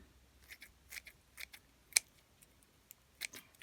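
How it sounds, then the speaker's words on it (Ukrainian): Scissors snip wood ear mushrooms in a series of sharp, close clicks spaced irregularly over a quiet background, one cut noticeably louder than the rest. "Зручніше за все, мені їх різати ножицями."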